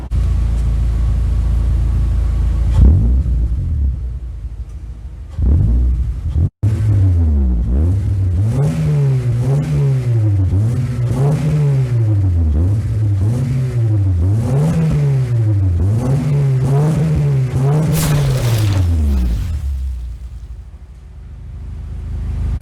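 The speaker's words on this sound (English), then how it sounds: "I also added a MagnaFlow exhaust system" Car fitted with racing rims and a MagnaFlow aftermarket exhaust revs repeatedly, a loud close rumble rising and falling in a steady series of throttle blips, standing alone without talk.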